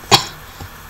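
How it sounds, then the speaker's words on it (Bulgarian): A single short, sharp cough from a man who is ill, close to the microphone, followed by faint soft breathing. "Извинявам се за кашлянето"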